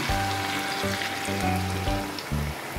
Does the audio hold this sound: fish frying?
yes